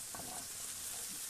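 Food fries in a pan with a soft, continuous sizzle, faint and steady, with no voices.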